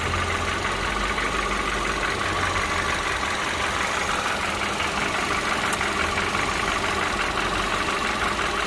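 A Kia K3 (Avante) car engine idles steadily nearby, a constant low rumble with a faint mechanical ticking, no voices.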